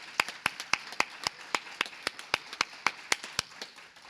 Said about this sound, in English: Okay, so a round of applause for everyone,